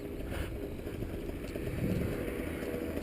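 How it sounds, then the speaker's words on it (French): A paramotor engine drone runs throughout, loud and continuous with a constant buzzing hum and no pauses, at a paramotor flight school near Paris. "Tant que j'entends le moteur, c'est bon."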